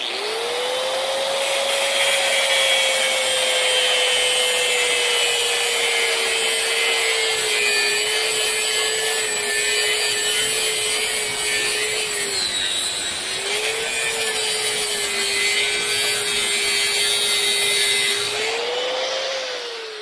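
Saw cutting partway into a Honda Goldwing exhaust extension pipe, a steady, loud, continuous rasping grind that runs nearly twenty seconds with a brief dip midway.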